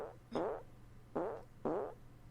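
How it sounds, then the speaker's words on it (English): Three separate fart sounds, each a short pitched-down squeaky burst with a rippling tone, spaced apart and heard alone at moderate loudness. "Girl farting."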